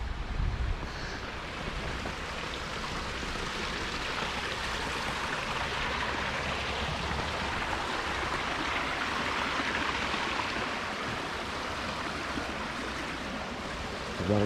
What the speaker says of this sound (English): There's a lot of little meandering streams here, branching off.